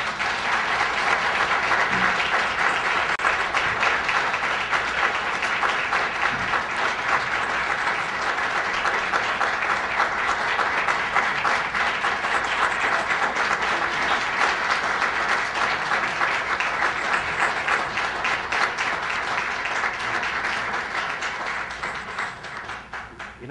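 A conference audience applauds to welcome Senator John McCain, a dense, steady roar of clapping that stays loud and even throughout and tapers slightly at the end, with no talking.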